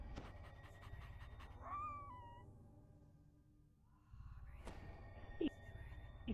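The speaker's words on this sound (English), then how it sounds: "Let my little doggy do the talking." A small dog pants quietly in quick, rhythmic breaths, with a few brief whimpering squeaks layered over the panting and a faint tonal whine in the background.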